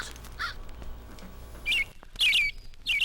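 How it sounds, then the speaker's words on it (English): A robin sings a few bright, short chirps, sparse at first and then clustered near the end, fairly close against quiet outdoor background. "Is the robin's cheery song a warning?"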